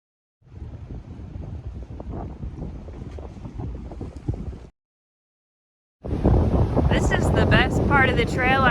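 Strong wind gusting across the Appalachian Trail during a wind advisory, roaring steadily into the microphone in two loud stretches separated by a short silence, the later burst harsher and fuller.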